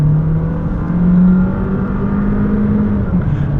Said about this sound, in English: this vehicle handles really well and accelerates really nicely